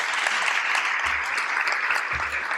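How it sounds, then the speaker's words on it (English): An audience applauds for Coke Florida at a live scholarship announcement: a dense, steady wash of clapping from a crowd that holds for the whole stretch, with a low hum rising briefly underneath. "Another round of applause for Coke Florida"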